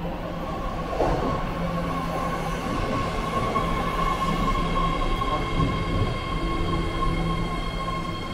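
A BART metro train rumbles steadily at El Cerrito Plaza station platform with a sustained tonal whine and faint wheel squeal, a brief announcement voice heard over the hum.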